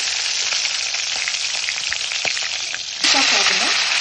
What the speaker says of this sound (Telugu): ఆయిల్ వేడెక్కిన తర్వాత కానీ నల్లీలే వేసుకొని వేయించుకోండి